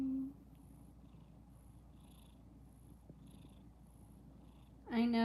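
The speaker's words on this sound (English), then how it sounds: "Are you purring?" A cat purrs softly and steadily up close, a low continuous rumble, with a brief voice at the start and end.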